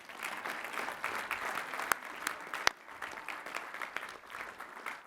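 A university commencement crowd gives applause for graduate degree recipients, dense, steady clapping from many hands heard at some distance, with a few sharper close claps standing out and no speech.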